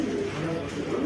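Pigeons sold in pairs at a bird market coo in low, soft, repeated calls, fairly faint, with a murmur of background noise throughout.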